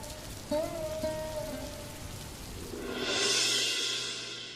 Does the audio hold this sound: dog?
no